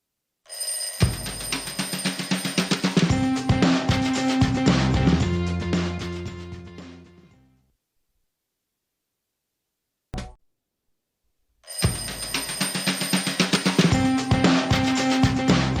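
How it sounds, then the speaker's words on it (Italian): A telephone rings with an incoming call on a live Italian morning TV show: a loud, steady, tonal ringing that runs for several seconds, stops, gives a brief chirp, then resumes. "C'è una telefonata in arrivo, la sentiamo."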